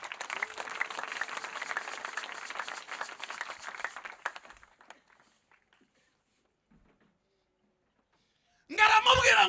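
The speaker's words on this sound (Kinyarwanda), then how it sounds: "Reka twongere tumukomera amashyi menshi" A church congregation at an ADEPR prayer service applauds with a dense wash of clapping for about four seconds before it fades into near silence. A loud burst of sound follows at the end.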